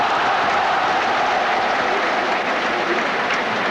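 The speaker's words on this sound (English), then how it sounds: "Gets a round of applause" Stadium crowd applauding at a 1982 World Cup qualifying football match between China and New Zealand, a steady broadband roar of clapping and cheering filling the whole stretch at a loud, even level.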